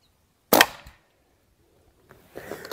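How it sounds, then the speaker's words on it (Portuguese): A single sharp, loud rifle shot firing a slug from a Rossi Outlander, with a short decaying tail, followed by silence and faint rustling and movement noises. "Vamos lá, três disparos."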